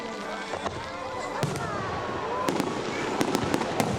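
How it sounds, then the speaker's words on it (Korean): Fireworks at an autumn festival in a park built on a former industrial reservoir in Ulju, Ulsan: a quick series of sharp pops and booming bursts, somewhat distant, over a murmuring crowd. "가을맞이 축제의 하이라이트인 불꽃놀이가 한참이었다."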